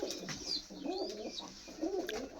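Large Kaldhoma pigeons coo close by in repeated soft, throaty rolling phrases, with faint chirps and background noise.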